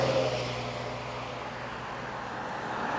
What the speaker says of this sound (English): Good bit of traffic coming through town here.